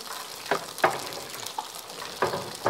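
Tempura-battered grunion fish frying in hot oil, a soft continuous sizzle broken by several sharp crackling bursts, close and fairly quiet with no voices.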